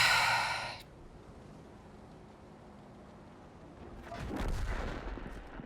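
A tank gun fires in World of Tanks, a loud blast right at the start that cuts off abruptly, followed by quiet and then a rumbling low swell of engine or impact noise.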